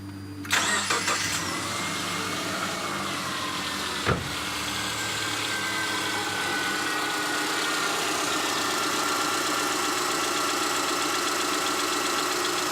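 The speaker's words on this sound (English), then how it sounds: "I'm just going to start the engine and have a listen" A car engine cranks and catches, then settles into a steady, even idle that runs on unchanged, close by.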